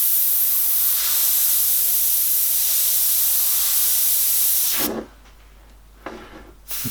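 An airbrush sprays a fine mist of paint onto metal, giving a loud, steady, close hiss for about five seconds that stops abruptly, then comes back as two short, quieter bursts.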